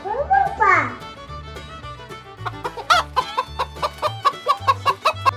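A young child imitates a chicken, starting with a rising squawk and then a quick run of short, clipped clucking syllables that gets steadily more rhythmic, close and fairly loud.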